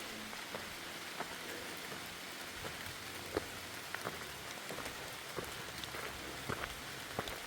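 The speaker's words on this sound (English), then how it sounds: "we got pretty good drizzle going on." Steady drizzle on the Appalachian Trail in North Carolina pattering on plastic rain gear and nearby surfaces, a constant soft hiss with scattered close drop taps.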